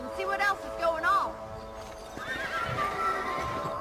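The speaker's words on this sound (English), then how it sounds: "Let's get back on the horses and see what else is going on." Horses whinny and hooves clip-clop in the Western video game Red Dead Redemption. Two rising neighs come close together early, then muffled hoofbeats and ambient noise follow while voices talk.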